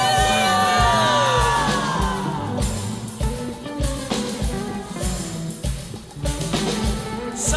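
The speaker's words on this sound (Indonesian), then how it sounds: "Sorakan haleluya." A church congregation shouting and cheering hallelujah in worship, loud crowd yells and whoops with rhythmic music underneath, sustained throughout.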